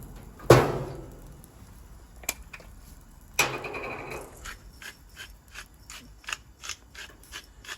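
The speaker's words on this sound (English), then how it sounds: "freshly ground black pepper, being quite generous with that" Black pepper ground in a pepper mill, with short dry crunching bursts and ratcheting grinds, then a run of quick rhythmic clicks as the mill is twisted repeatedly, close and fairly quiet with no talk.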